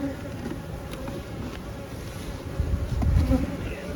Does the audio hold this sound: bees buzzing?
yes